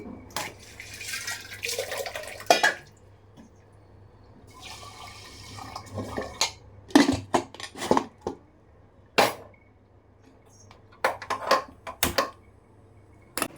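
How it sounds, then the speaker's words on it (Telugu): Pots, lids and utensils clatter in a home kitchen as food goes into a pressure cooker, with bursts of running tap water and scattered sharp metallic knocks, close and loud, mixed with occasional quiet background voices. "ఇంకా కుక్కర్లో అయితే వేస్తున్నాను"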